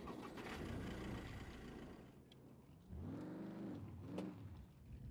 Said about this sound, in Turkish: Şimdi motorumuzu çalıştıralım.